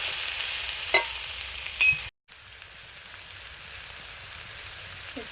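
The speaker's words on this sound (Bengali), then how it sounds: "এবারে আলু ভাজা হচ্ছে, হলুদ দিয়ে দিলাম।" Potato pieces fry in oil with turmeric in a home kitchen. A soft hissing sizzle plays with a couple of stirring scrapes, then cuts briefly and returns as a quieter, steady sizzle.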